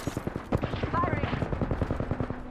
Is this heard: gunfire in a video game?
yes